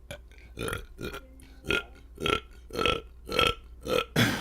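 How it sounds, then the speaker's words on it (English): A run of about eight loud, deliberate burps in a steady rhythm, each a harsh voiced belch spaced roughly half a second apart, close to the mic with no other talking. "Oh man, we got some good burps going."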